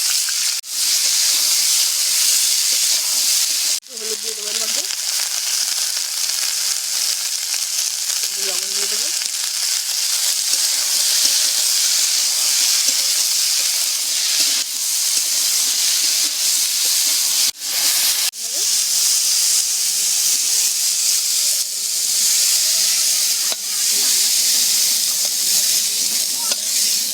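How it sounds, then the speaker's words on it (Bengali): Long beans, peas and eggplant frying together with turmeric in hot oil give a steady, loud hiss and sizzle throughout, with a few brief clatters of stirring and no talk. "বরবটি, মটরশুঁটি আর বেগুন আছে, একসাথে ভেজে নেব।"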